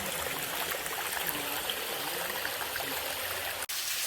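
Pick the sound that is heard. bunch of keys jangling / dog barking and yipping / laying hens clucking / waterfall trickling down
waterfall trickling down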